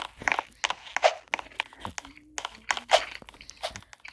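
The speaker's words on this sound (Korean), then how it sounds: "너 왜 과자를 먹고 있어, 갑자기 촬영 중에" Crunchy snack being chewed close to the mouth, with repeated loud crisp bites and crunches in an irregular rhythm, a few soft voice sounds in between.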